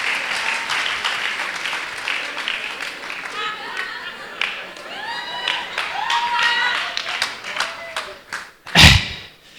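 A crowd's hand clapping forms a steady, fairly loud patter of applause that runs throughout, while someone talks over it, ending with a heavy thump near the close.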